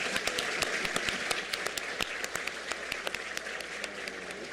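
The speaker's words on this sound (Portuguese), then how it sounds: "Para acabar, uma salva de palmas para mim" A seated audience at a law conference in an auditorium applauds steadily, a dense patter of many hands with scattered crisp claps, even in level and somewhat distant.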